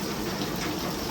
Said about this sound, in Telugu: జోరు ద్వారగా పడిపోయింది వర్షము